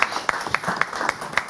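Live chamamé concert audience in Patagonia: a short burst of scattered hand claps, roughly a handful of distinct sharp slaps in quick uneven rhythm, fairly close.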